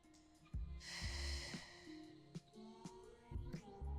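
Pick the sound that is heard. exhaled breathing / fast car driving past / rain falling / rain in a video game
exhaled breathing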